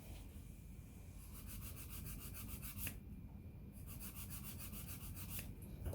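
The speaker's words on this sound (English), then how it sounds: "following the 10 filing steps to remove all gel polish colour" Nail file rubbing off gel polish on nail extensions, a faint, close, continuous scratchy rasping in quick back-and-forth strokes, heard alone.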